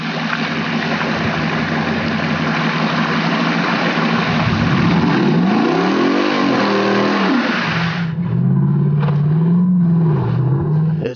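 A Jeep Wrangler engine revs hard and loud as it plows through deep mud, the pitch rising and falling in surges, then dropping to a lower laboring drone near the end.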